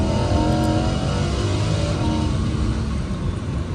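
Lamborghini Huracan EVO (2023) V10 engine revving hard on a downshift in sport mode, loud and continuous from close inside the car on a highway, with a steady roaring drone throughout.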